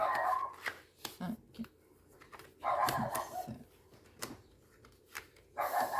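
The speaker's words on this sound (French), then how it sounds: "Et vous entendez encore mon petit toutou." A small dog barks and whimpers in short, sharp bursts spaced irregularly, fairly close and moderately loud, with little talk around it.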